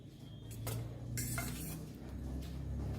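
Goan Christmas cake batter with eggs and allspice being mixed in a bowl, a spoon scraping and clinking against the sides in a few distinct strokes over a low steady background hum.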